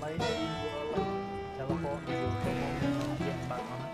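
Horse neighing and hooves in the video game Red Dead Redemption, heard amid layered game music and sound effects, fairly faint, with talking over it.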